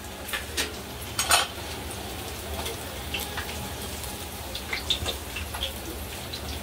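Fried potato and puffed-rice bhaji are lifted out of a pan, with soft clinks and scrapes of a utensil over a quiet hiss of hot oil.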